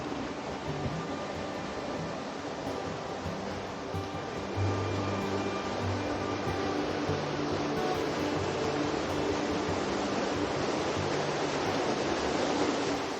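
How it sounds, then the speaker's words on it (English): Waterfall in Coyote Gulch canyon gives a steady, dense roar of falling water that grows slightly louder partway through, heard alone with no voices. "Here's the first waterfall."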